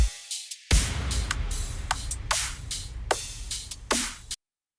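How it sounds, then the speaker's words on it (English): EDM drum loop building into a transition with an impact effect, made in FL Studio: a punchy electronic beat with bright noisy hits and swells, ending on a strong burst that cuts off abruptly to silence, with no voice. "Afterwards, we add an impact that further emphasizes the transition."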